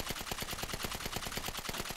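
Automatic gunfire in GTA V rattles out as a rapid, evenly spaced stream of sharp shots, loud and sustained for the whole stretch with no talking.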